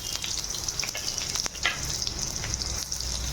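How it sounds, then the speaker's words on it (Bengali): Chopped onions fry in hot oil in a wok (kadai), a steady close hissing sizzle with light crackles and a brief stir partway through. "পেঁয়াজটাকে লাল করে ভেজে নেবো"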